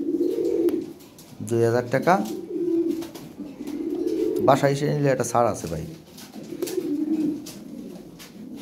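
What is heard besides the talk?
pair of farm running pigeons cooing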